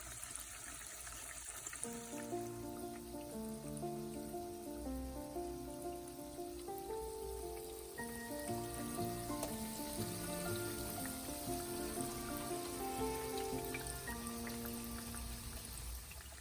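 Gulgula fritters deep-frying in hot oil give a steady, even sizzle that runs throughout, partly masked by louder background music with clear melodic notes.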